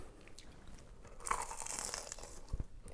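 Someone bites into a Scottish deep-fried pizza crunch, a battered, oil-fried pizza, giving a close, crisp crackling crunch followed by a few softer chewing sounds with no talking.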